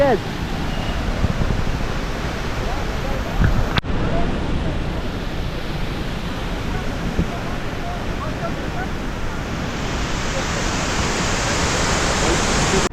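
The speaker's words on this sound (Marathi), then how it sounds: "तिथून तो खाली पाणी पडते अजून वरून येते पाणी" A constant rushing roar of water falling from above at Nanemachi Waterfall fills the scene, loud and unbroken, with wind buffeting the microphone and a brief knock partway through.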